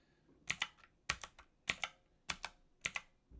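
Keystrokes on a computer keyboard entering control-key sequences into a Videx VideoTerm terminal emulation, in five quick clustered bursts of two or three sharp clacks each, close and clear with no talk over them.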